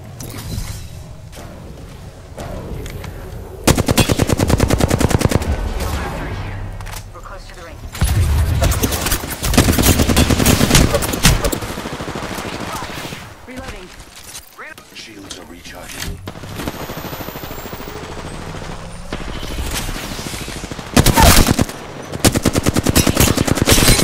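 Apex Legends gunfire, bursts of rapid automatic shots and single cracks coming in waves across a long firefight, loud and close, with players talking excitedly over it.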